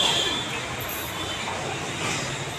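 A Mumbai local train pulls into the platform, a broad steady rumble of wheels and carriages with a thin high squeal near the start, close and continuous.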